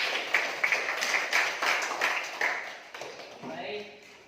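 Students in a classroom clap in applause, a burst of overlapping hand claps that fades over a few seconds, with voices mixed in underneath.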